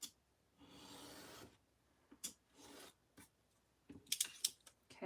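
Cutting by hand for a refillable notebook holder: a few short, dry rasping strokes in separate bursts, the longest near the start and quick scratchy cuts toward the end, close and fairly quiet with no talking.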